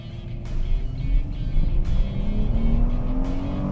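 A 2021 Dodge Charger SXT V6 Blacktop pulls away from a complete stop, its engine note rising steadily as it accelerates, heard from inside the cabin with road rumble underneath.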